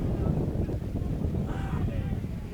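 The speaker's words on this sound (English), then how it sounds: "Now it's just windy." Wind buffets and rumbles across the microphone in continuous gusts at a high school football game, with a faint distant voice mixed into the noise.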